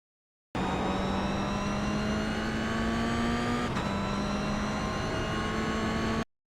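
A Toyota GR86 engine in a racing sim accelerates on the Tsukuba track, a loud sustained whine with a steadily rising pitch, briefly dipping once as if shifting gear before climbing again, then cutting off abruptly.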